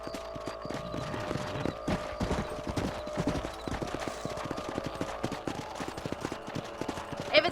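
Horse hooves clip-clop steadily at a riding pace in the open-range Western game Red Dead Redemption, dense rhythmic thuds over a sustained musical tone and faint ambience, with no one talking.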